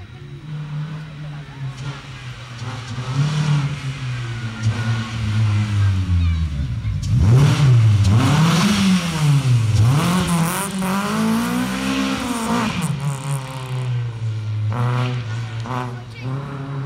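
A race car on its reconnaissance lap at the Trofeo Agosto Francofontese motor show hill climb, its engine revving up and down in loud, sweeping waves that peak midway and then settle into a steadier drone.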